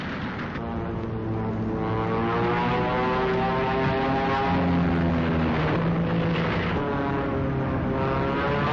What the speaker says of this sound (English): And here come two Thunderbolts.